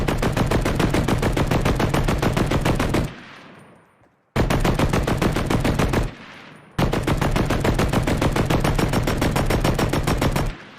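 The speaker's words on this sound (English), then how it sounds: "I like this new LMG sound." A reworked LMG machine gun firing in Fortnite, three long sustained bursts of rapid rattling shots, loud and close, each burst followed by a brief fading tail before the next.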